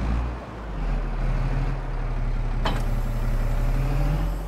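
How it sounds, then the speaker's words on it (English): A battery-powered tractor in Farming Simulator runs with a steady electric hum and a slowly rising whine, a brief click partway through, and no talking. "Look at that stupid battery power tractor."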